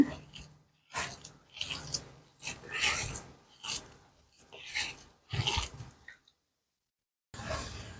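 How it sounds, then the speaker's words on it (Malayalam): Semolina and curd batter is mixed by hand in a bowl, giving repeated wet, rasping squelches in steady strokes, close and fairly loud, with a short silent break near the end. "ഇനി കൈ വെച്ച് നന്നായിട്ടൊന്ന് മിക്സ് ചെയ്യാം"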